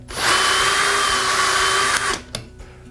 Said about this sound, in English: Okay, so now you're ready to start drilling some pocket holes.